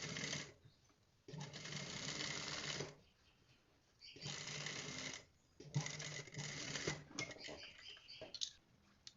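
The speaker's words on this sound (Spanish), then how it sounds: "Nuevamente pasamos la costura por encima." A sewing machine stitches a trouser seam in four bursts of rapid, buzzing clatter separated by short pauses, close and steady while running, with no one talking.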